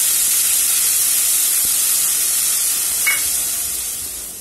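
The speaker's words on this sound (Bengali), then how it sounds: "সবার প্রথমে পেঁয়াজ বাটাটা আমি তেলের মধ্যে ভালো করে ভেজে নেব" Onion paste fries in oil with a strong, even hiss and sizzle. Near the end there is a faint stirring touch, and no voice is heard.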